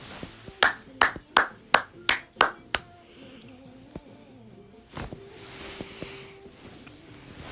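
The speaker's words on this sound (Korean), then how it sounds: "이거 박수" Eight sharp, evenly spaced hand claps from one person ring out close and loud, then trail off into quiet room noise with a few faint knocks.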